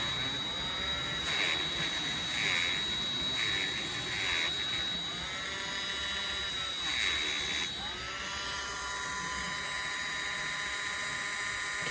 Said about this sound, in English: a little multi-tool, because I'm just going to see whether I can clean the wheel up bit by bit